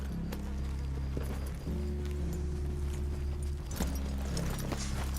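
Horse hooves clip-clop steadily in the Red Dead Redemption 2 video game, a continuous rhythmic plodding over a low rumbling game soundscape with no talk.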